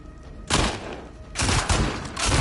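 Gunfire bursts in the video game The Last of Us Part 2, a loud burst starting abruptly half a second in, then a dense volley of shots over the final second, all close and continuous without talk.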